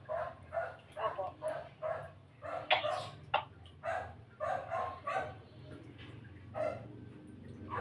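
A neighbour's dog barks in a steady series of sharp, repeated barks, fairly close and clear, while a low background hum runs throughout.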